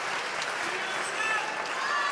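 A table tennis arena crowd at the 2019 Australian Open semifinal between Xu Xin and Patrick Franziska, clapping in a steady, moderately loud wash, with a commentator's voice present over it.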